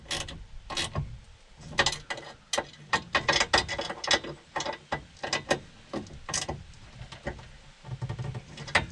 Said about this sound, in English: go ahead and tighten up your bracket.